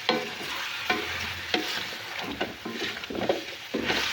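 Tomatoes tipped into a pan of frying mutton for bhindi gosht, a steady sizzle with repeated stirring scrapes and soft thuds of pieces landing, close and moderately loud, no talking.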